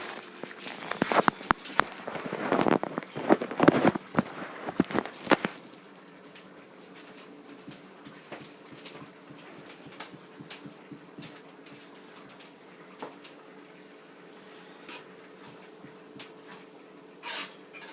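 A spoon works through simmered arroz con gandules in a pot, with several loud sharp scrapes and thumps over the first few seconds, then faint intermittent clinks and quiet bubbling, with no talking.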